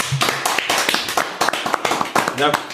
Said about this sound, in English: Can we clap it up for him one time?